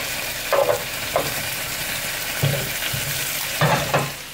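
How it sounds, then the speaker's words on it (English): Potatoes sizzling in a pan while being flipped, a constant frying hiss broken by several clacking utensil and pan scrapes at uneven intervals. "We're gonna flip over the potatoes."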